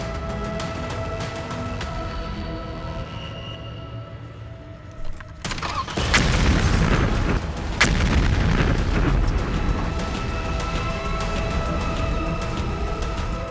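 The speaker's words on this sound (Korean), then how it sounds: "하늘이 무너질 듯한 경운과 함께 차량이 폭발했습니다" A car parked outside an inn explodes from a bomb: a sudden heavy blast bursts out midway through low background noise, followed by a sustained loud roaring rumble.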